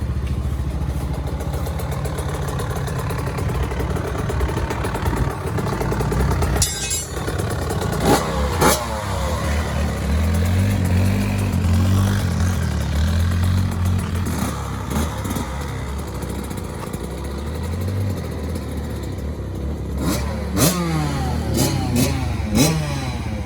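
Dirt bike and quad engines rev and idle nearby outdoors, with rising and falling throttle blips and a steady mechanical drone throughout.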